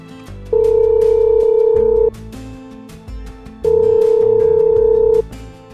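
Phone ringback tone repeating while a call waits to be answered, two long steady tonal rings separated by a pause, loud and clear with no voices.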